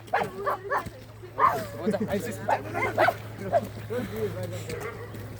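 A dog barks and yips in short bursts during a morning trek from Kathmandu to Bhaktapur, the calls fairly close and mixed in with people chatting nearby.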